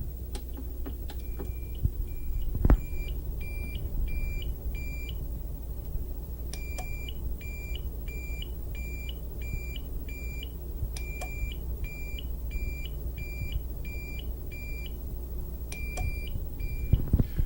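An electronic detector beeps in repeated rapid runs of short high tones, pausing between bursts, steady and clear over a low background hum.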